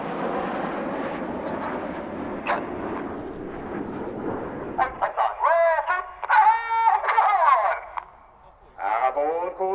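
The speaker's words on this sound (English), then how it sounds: "Reds 8 and 9 with the coloured smoke roll around the other aircraft" Red Arrows jets in a rolling airshow display at RIAT 2019, a loud, steady roar of jet engines overhead that cuts off abruptly, followed by talk over the public address.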